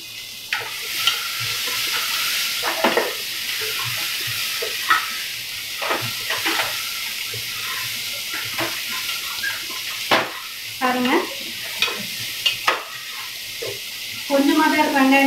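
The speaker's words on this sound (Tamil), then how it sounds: "வெங்காயம் மட்டும் போட்டிருக்கேன். நல்லா வதக்குங்க." Onions sauté in a pan for vegetable sambar, with a continuous close sizzle broken by repeated scraping stirs and a louder hiss near the end, and a person talking over it.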